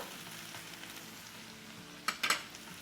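Soy sauce and vinegar hit a hot chicken stir-fry. A faint, steady sizzle runs underneath, then a few short, bright bursts of spatter and clatter rise suddenly near the end.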